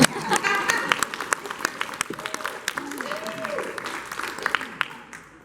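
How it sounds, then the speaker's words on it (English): Audience applause at a large family reunion in Belcourt, North Dakota, steady scattered clapping from a moderately near crowd that thins and fades out at the end. "You can clap now."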